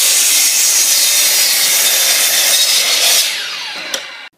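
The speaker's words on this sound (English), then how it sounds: "We now cut 2 sets of seats." A power saw cuts through a wooden board for picnic table seats, one loud continuous rasping whine held for about three seconds before it winds down and stops.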